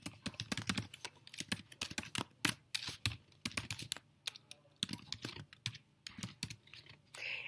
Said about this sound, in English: Here at first you have to type your username.